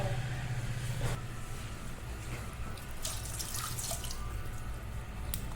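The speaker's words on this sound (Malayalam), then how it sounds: "വെള്ളം ഒഴിക്കട്ടെ" Water runs and splashes into a cooking pot of prawn, raw mango and drumstick curry at close range, with brief drips and clinks under a steady watery hiss.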